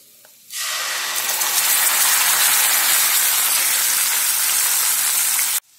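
Tomato purée sizzling in hot oil in a pan with asafoetida, turmeric and red chilli powder, a loud steady hiss that starts abruptly, holds for about five seconds, then cuts off.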